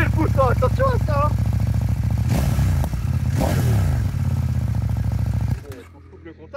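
A CF Moto 800 NK motorcycle engine idles loud and close with a rough, throbbing rumble and a couple of brief rising swells, then cuts out abruptly near the end; a voice talks over the first part.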